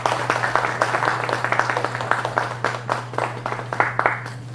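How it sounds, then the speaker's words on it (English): An audience at a wildlife documentary master class during a film festival gives a steady round of applause to welcome a speaker, with dense, even clapping over a low electrical hum. "I request you all to please join me in welcoming with a round of applause Mr."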